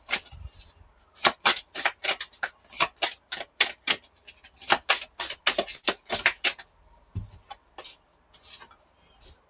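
A deck of oracle cards being shuffled by hand, a long run of crisp, rhythmic riffling slaps, then a few softer taps as the shuffling ends. Close and clear, with no speech.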